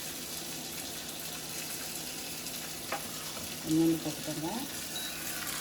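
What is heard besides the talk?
grated coconut sautéing in a pan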